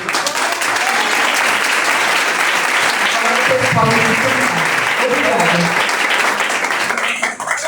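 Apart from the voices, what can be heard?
audience applause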